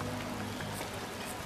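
Steady rain pattering from the video game I.G.I.2, a dense, constant hiss of drops holding at an even level throughout with no change or pause.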